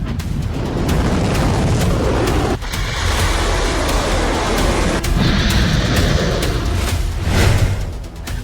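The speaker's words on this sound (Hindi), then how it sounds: "इजराइल में ईरान की जुल्फिकार मिसाइलों के धमाके" Iranian Zulfiqar missiles exploding in Israel, heard as loud, continuous, rumbling booms and blasts with deep roaring low end and no clear gaps.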